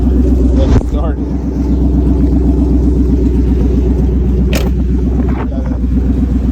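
A car engine idles steadily with a deep, close rumble and a rapid ticking pulse from an exhaust leak, with a brief louder burst near the start.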